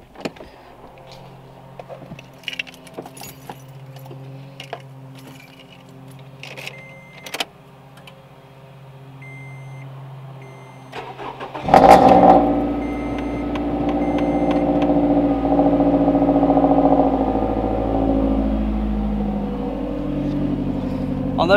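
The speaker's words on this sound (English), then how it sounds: "let's start the car." A car fitted with an aftermarket exhaust is started up. Quiet clicks and tones come first, then the engine catches with a sudden loud burst at about twelve seconds and settles into a strong, steady rumble that swells as it revs.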